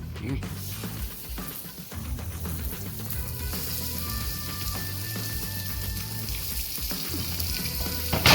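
Blackened Cajun salmon fries in a pan with a dense, continuous sizzle, close and loud, while faint speech and occasional kitchen clatter sit underneath.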